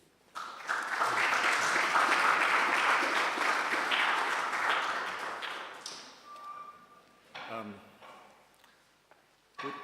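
Audience at a Staedelschule architecture lecture applauding to welcome the speaker, a dense burst of clapping that swells quickly, holds for several seconds and then thins into scattered claps with a few voices.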